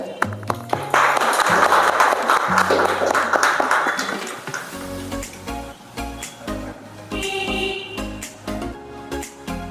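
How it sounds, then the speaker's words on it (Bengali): Audience at a children's reality show clapping for a young contestant on stage, a burst of applause over background music that fades after a few seconds as the music continues. "তার জন্য একটা জোরে হাততালি হয়ে যাক।"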